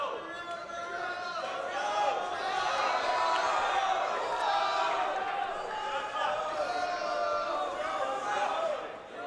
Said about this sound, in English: Beverly's got a pretty good crowd for school night here